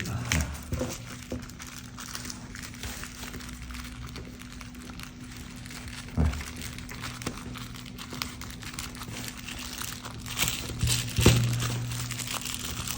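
A thin plastic shopping bag with handles is folded up by hand for reuse, giving soft, quiet crinkling and rustling with a few louder crackles, while someone talks over it.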